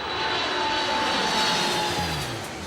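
An airplane engine drones loud and steady, a broad continuous roar with a faint high whine, swelling slightly and then easing off as it passes.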